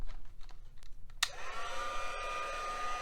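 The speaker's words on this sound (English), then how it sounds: "Now I'm going to get my heat tool" An embossing heat tool switches on after a few faint clicks and taps, then blows hot air with a steady close whine and whoosh that continues to the end.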